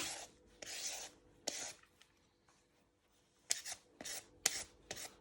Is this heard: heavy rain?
no